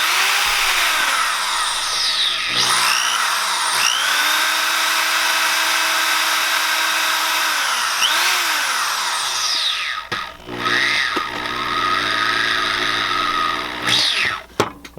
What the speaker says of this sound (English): once you've got your drill chucked up to your bobbin winder